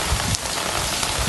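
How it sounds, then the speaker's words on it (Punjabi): Rain falls steadily over the flooding Sutlej river, a brief, even hiss of drops on surfaces with a few soft low thumps and no voices. "ਉੱਤੋਂ ਹੁਣ ਬਾਰਿਸ਼ ਚੱਲ ਰਹੀ ਜੀ।"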